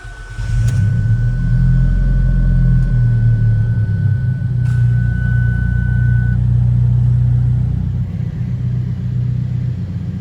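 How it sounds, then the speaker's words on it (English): An Alfa Romeo's engine starts up and settles into a steady, close, low idle rumble, with a faint chime ringing briefly at first and nothing else over the engine. "now when you start the car up, your oil life reminder will be reset."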